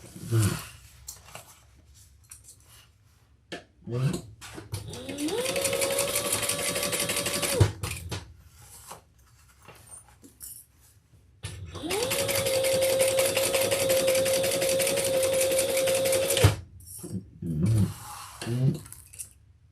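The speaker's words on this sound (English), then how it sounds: "And we'll sew that together at the seam allowance in the bottom." Sewing machine stitching the bottom seam of a handbag, two long steady runs of rapid mechanical chatter close by, with short pauses and handling noises between them.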